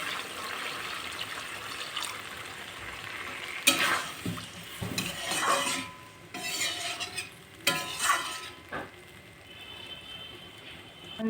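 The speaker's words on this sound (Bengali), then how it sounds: "এটা ধুয়ে অল্প জল দিয়ে দিই। দিয়ে দিচ্ছি অল্প জল।" Water splashes into a hot pan of fish curry, setting off bursts of sizzling and stirring that rise and fall over several seconds against a quieter background hiss.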